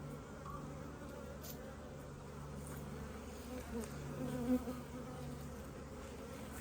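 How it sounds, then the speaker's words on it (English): Honeybees swarm over brood frames at an open hive, a steady dense buzz with a low droning hum holding throughout and a few closer wingbeats rising briefly near the end. "Look at all these bees."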